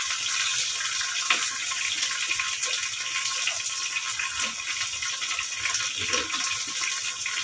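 Broth poured over sardines, giving a steady, continuous watery splashing and trickling that runs evenly for several seconds with no voices.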